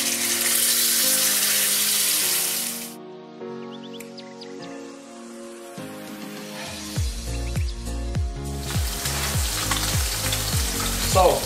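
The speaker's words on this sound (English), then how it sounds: "So, while our snapper is frying nicely away in the pan" A snapper fillet fries in a pan, a steady hissing sizzle that fades, then clinks and light clattering as it settles, and the sizzle swells back loud and continuous, with no talk.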